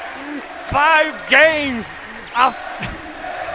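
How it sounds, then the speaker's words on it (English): A large crowd at a Smash tournament chants and cheers as a steady roar, with an excited commentator talking loudly over it in short bursts. "as the entire crowd is chanting, thank you, Leo."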